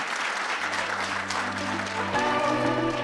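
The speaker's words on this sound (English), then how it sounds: "Can we please give a round of applause for our Honorable Deputy Minister?" An audience at a national ICT summit gives sustained applause for the Deputy Minister, with a broad, continuous wash of clapping and a faint tone under it throughout.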